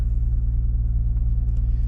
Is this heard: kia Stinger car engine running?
yes